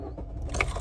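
Car keys jangle briefly near the listener, a short metallic rattle over a low rumble of background noise.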